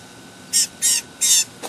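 A wild blue jay gives three harsh, raspy calls and a shorter fourth, evenly spaced and close, over quiet background hiss.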